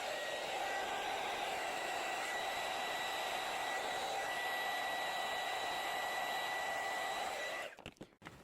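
A heat tool heat-setting color on a card blows with a steady, close whooshing hiss and a faint whine for about seven seconds, then cuts off, followed by a few soft handling sounds.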